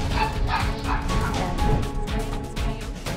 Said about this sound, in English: her two dogs barked and chased it out of the house